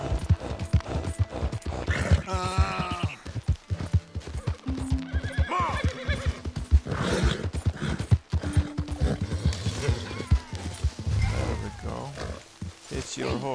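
In Red Dead Redemption II, a horse's hooves clip-clop at a gallop and it lets out several loud whinnies and neighs, with game music and some talking mixed in.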